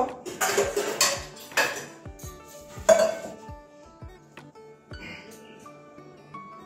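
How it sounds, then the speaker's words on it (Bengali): Clanking metal as a pot of boiled mung dal comes off the stove and is poured into a bowl: a few loud, close knocks and scrapes early, then sparser, quieter clinks. "এবারে ডালটা নামিয়ে নিচ্ছি, একটা বাটির মধ্যে ঢেলে নেব।"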